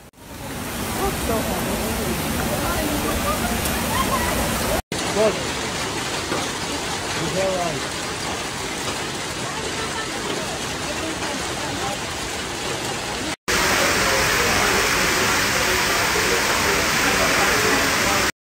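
Heavy rain pours down during a Sydney thunderstorm, a dense, steady hiss of rainfall that stays loud throughout and swells louder near the end.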